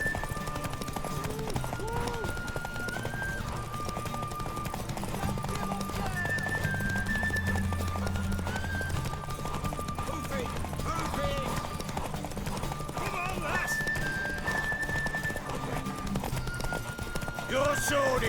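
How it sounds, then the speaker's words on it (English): Horse hooves in The Witcher 3 during a race, a steady clip-clop gallop with occasional neighs, under game voices and effects throughout. "Want that horse, don't ya?"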